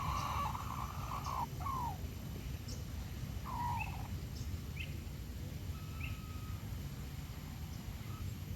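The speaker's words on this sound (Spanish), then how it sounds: "Ahí están el gallo y la gallina." A rooster crows faintly in the distance at a botanical garden in Singapore where a hen is also present, its drawn-out calls recurring a few times over a low steady background hum.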